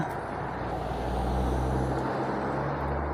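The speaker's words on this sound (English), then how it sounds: "Let this car go." A car passes by on the road, a broad steady rush of tire and engine noise at moderate distance, with a low hum beneath and no talking.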